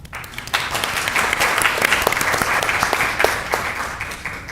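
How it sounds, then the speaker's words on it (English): Steady applause fills a city council meeting, many hands clapping together at close range for several seconds with no voices over it. "it deserves a resounding thank you and a round of applause."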